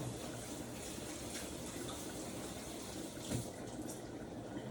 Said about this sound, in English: we wash up here a minute